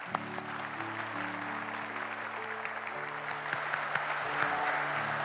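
A church congregation claps together in steady, moderately loud applause during a service, with low sustained organ-like tones sounding beneath the clapping.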